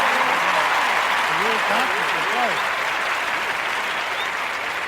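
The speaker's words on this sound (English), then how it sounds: "Let's give that man a round of applause." A crowd gives a round of applause, dense and steady clapping throughout, with several voices calling out over the noise.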